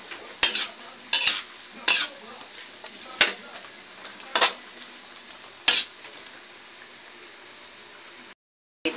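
Chili is stirred into igado, a pork-and-liver dish frying in a pan, giving about six sharp scraping strokes at uneven intervals over a faint low sizzle, then a brief silence.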